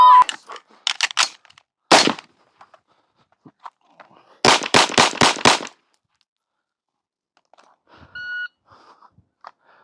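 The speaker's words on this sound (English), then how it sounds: "We will put 2 rounds on target with a rifle, transition to our pistol, put 5 rounds on target with the pistol." Rifle and pistol rounds fired on target during a timed patrol rifle qualification drill: a sharp pair of shots, then a fast string of five close-spaced reports, loud and near, with brief mixed sounds between.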